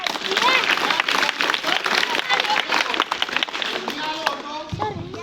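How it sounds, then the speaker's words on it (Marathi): Audience applause at a live gathering, dense sustained clapping from many hands close by, with crowd voices mixed in, thinning out toward the end. "पुन्हा टाळ्या वाजवा"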